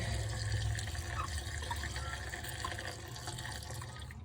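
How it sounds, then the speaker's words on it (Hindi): A kitchen water tap runs steadily in a soft, continuous rush at low level, with no voices over it. "इसका पानी बंद कर देते हैं।"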